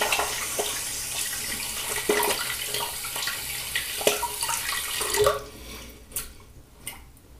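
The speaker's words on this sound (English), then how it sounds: "All right, rinse my hands a little bit." Water runs from a tap while hands are rinsed, a soft continuous splashing with small clicks and knocks, ending in drips and quieter trickles.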